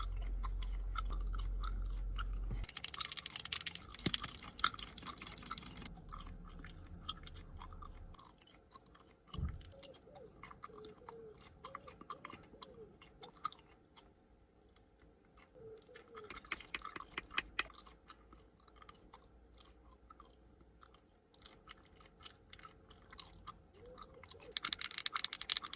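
Loud, wet chewing and crunching from a clip played back on a beauty-themed social feed, coming in bursts with brief quieter gaps and rising again sharply near the end.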